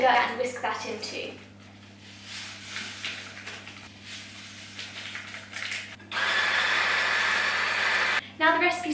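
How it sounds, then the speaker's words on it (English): Eggs and sugar whisked together in a bowl for madeleine batter, a steady close scraping whir that runs in long stretches, loudest near the end, with brief pauses between bursts. "I'm going to add in the sugar and whisk that in too"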